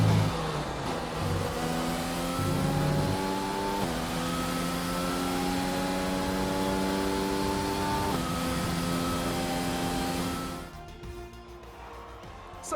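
A race car engine drones steadily on a cool-down lap after the race, its pitch stepping through gear changes and fluctuating under light throttle before fading down near the end.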